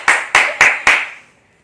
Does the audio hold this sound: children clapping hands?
yes